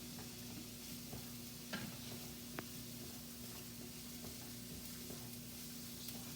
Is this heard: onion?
yes